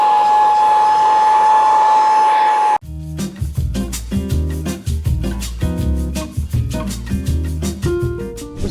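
A handheld Agaro cleaner switched on with its power button gives a steady, loud motor whine with a high tonal hum for a few seconds before cutting off abruptly into music.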